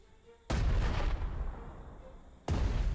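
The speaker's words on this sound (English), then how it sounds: "And artillery here too against the guys out there." Artillery fire in the WWII strategy game Panzer Strategy during an assault on Leningrad: two heavy, loud booms, each with a rumbling tail, about two seconds apart.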